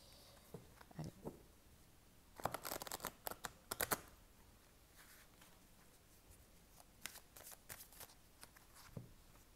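A tarot deck is cut and shuffled by hand, soft papery riffles and slaps coming in short clustered bursts between quiet pauses, fairly faint and close.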